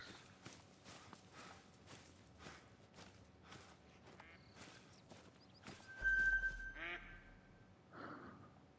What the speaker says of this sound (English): Seeing a huge amount of mallards.